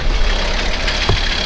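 A tractor engine runs at a steady idle-like rumble, close and fairly loud, with a continuous low drone and no talking.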